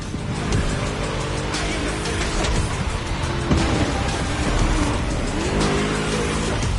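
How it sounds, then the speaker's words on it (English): V8 muscle car engine racing in The Crew Motorfest, a steady loud roar with rising and falling revs, tire squeal and mechanical clatter running throughout. "Just listen to that V8 like a chunky, down-tuned guitar riff"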